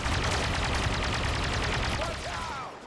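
Rapid blaster gunfire in Star Wars Battlefront, a dense continuous stream of shots with no breaks, loud and close, with a brief voice near the end.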